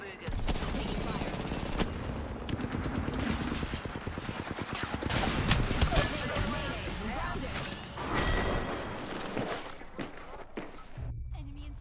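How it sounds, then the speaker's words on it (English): Rapid bursts of automatic gunfire crackle through a video game firefight, dense and continuous for most of the stretch, with a loud sharp shot near the end and a lower, quieter patch at the very close. "Taking fire."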